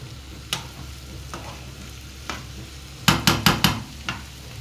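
Beans sauté in butter in a pan with a soft steady sizzle, punctuated by a few spaced spoon taps and then a quick burst of four sharp clanks against the pan.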